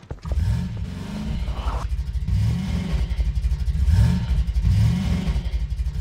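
A car engine revs loudly and close while being driven, rising and falling in repeated surges with a rough, throaty rumble over a short scrape at the start.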